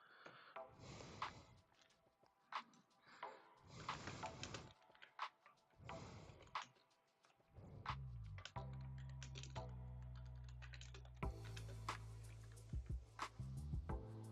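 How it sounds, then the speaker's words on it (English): Keys on a computer keyboard clatter in scattered bursts, quiet and close, mixed with rustling and handling noises. "Typing something."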